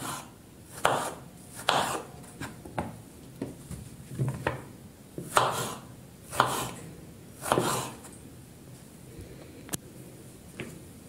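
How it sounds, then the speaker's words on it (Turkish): A knife chops eggplant on a cutting board in a kitchen, giving a dozen or so soft, close thuds at an uneven, unhurried pace, with no voices. "Patlıcanları bu şekilde doğradım."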